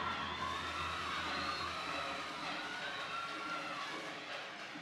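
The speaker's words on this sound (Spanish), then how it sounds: "¡Fuerte el aplauso para los muchachos!" Audience at a regional oratory competition final applauding and cheering the students, a dense, continuous wash of clapping and crowd noise holding steady throughout.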